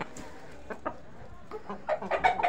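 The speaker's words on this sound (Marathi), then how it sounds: "ओरिजिनल सेलम कोंबडी आहे जातवान" Original Selam hen, a short-nosed village fowl of about two and a quarter kilos, gives a series of soft clucks that grow busier and louder toward the end, heard close against a quiet background.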